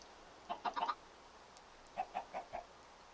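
A video game chicken clucks in two quick bursts of short, close clucks, separated by a pause, over quiet background.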